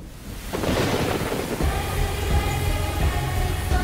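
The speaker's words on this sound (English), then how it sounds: "They say rain is a good sign" Heavy rain pours steadily with deep rolling thunder rumbling underneath, loud and continuous throughout, from the film Baahubali: The Beginning.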